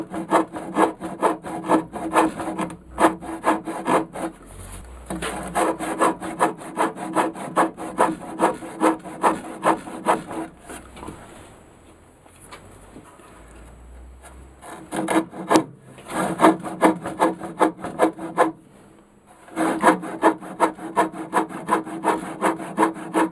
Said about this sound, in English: I've cut all these sort of kerf marks into this piece of wood, cut them all to the same depth at an angle